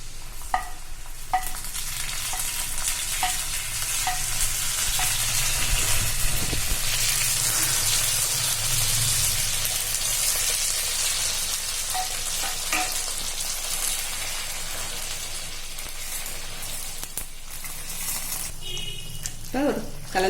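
Sakkarai pongal, a sweet Tamil rice dish, is stirred in a pan on a stove, giving a steady bubbling sizzle with occasional scraping taps of the spoon against the pan, and talk comes in near the end.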